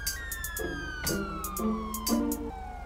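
A police car siren wails in Grand Theft Auto, sliding and stepping through loud rising and falling tones over a low engine rumble, with brief clicking bursts between them.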